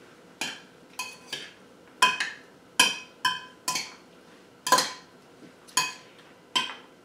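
A spoon stirs mango pico de gallo salsa in a bowl, producing a series of separate clinks and scraping taps against the bowl, about a dozen spaced strikes, close and clear with no talking.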